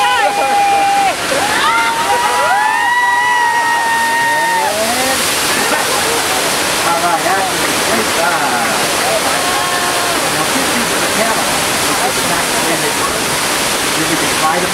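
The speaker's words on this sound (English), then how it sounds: "let's break the water main." A simulated water main break floods a station on a Universal Studios studio tour ride: rushing, sloshing water pours in loudly and continuously, with splashing and gurgling, while voices talk over it early on.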